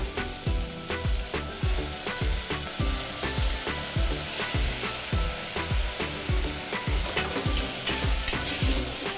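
Two medium tomatoes frying in a pan while being stirred, a constant sizzle broken by rhythmic scraping strokes of the spoon, close and fairly loud, with no talking.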